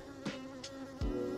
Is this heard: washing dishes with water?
no